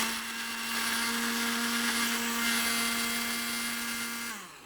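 A blender-style grinder whirs steadily, pulverizing whole spices into pulao masala for nalli pulao, a loud continuous motor drone with a high whine that holds nearly five seconds, then winds down at the end.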